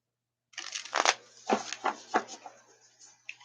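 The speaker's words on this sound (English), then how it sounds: "Just give this a few shuffles." A deck of cards is riffled and shuffled by hand at close range, with several quick rustling bursts followed by softer handling sounds.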